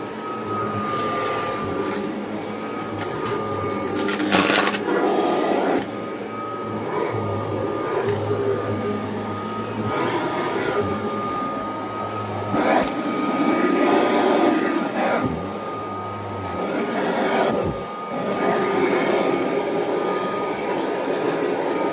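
A Kirby Heritage II Legend vacuum cleaner runs continuously on a back porch, a loud steady motor whine with airflow rushing and shifting pitch as it is pushed around, plus occasional clunks.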